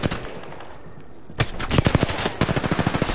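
Video game gunfire: after a brief lull, a rapid automatic burst of shots rattles out for about two seconds, loud and close, with a short pause partway through.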